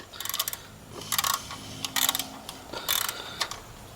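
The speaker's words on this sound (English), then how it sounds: "I'm just going to snug it down really good." A ratchet snugs down the idler pulley bolt on a 2000 Ford Expedition 4.6, giving quick bursts of close clicking in several short strokes with pauses between them.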